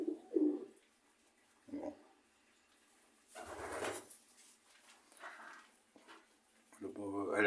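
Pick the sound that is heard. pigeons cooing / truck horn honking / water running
pigeons cooing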